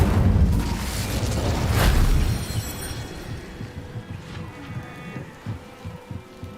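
Incendio fire spell cast in Hogwarts Legacy, a loud whooshing burst with a deep boom in the first two seconds, then a crackling, rumbling tail that fades under busy game effects.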